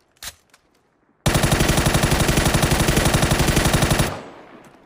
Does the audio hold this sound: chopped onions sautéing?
no